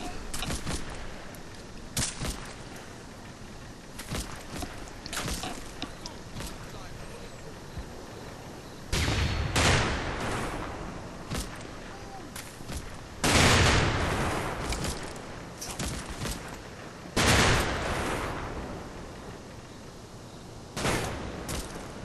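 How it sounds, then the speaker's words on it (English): Mortar rounds in the Combat Mission war game land in heavy, booming bursts spaced several seconds apart, with scattered smaller gunfire cracks between them and talk running underneath. "It almost looks as if I've got mortar fire coming down"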